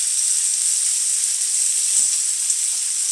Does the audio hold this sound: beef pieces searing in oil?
yes